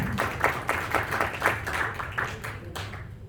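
An audience applauds an award winner at a corporate client appreciation party, a continuous patter of many hands clapping nearby that tapers slightly toward the end.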